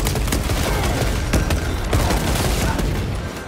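Heavy bolt rifle fire in a Warhammer 40k Space Marine battle, Blood Ravens against Chaos: dense, continuous bursts of loud booming shots throughout, with faint game voices underneath.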